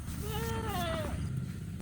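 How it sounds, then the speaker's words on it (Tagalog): A brown goat on a small farm gives one clear, wavering bleat close by, followed by quieter rustling and background noise. "kukunin natin yung brown ko na kambing"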